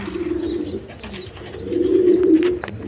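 Pigeons at a bird market stall, a new adult pair for sale, coo in low repeated rolls, close and clear, swelling louder in the second half with faint background chatter.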